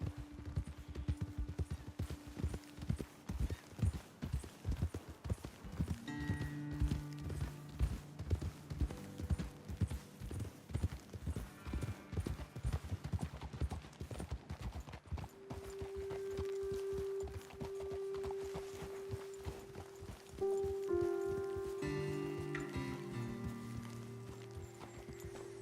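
Horses walking on a trail in Red Dead Redemption 2, hooves clip-clopping in a steady close rhythm, later joined by sustained tonal game music and ambience.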